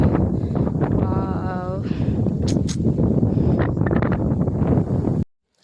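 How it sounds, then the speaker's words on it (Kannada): Strong wind on a Madhugiri hilltop at sunrise buffets the microphone with a loud, continuous low roar, while a voice talks briefly over it before an abrupt cutoff. "ನಿಜ ಗಾಳಿ ಎಷ್ಟು ಫೋರ್ಸಲ್ಲಿ ಹೊಡಿತಾ ಇತ್ತು"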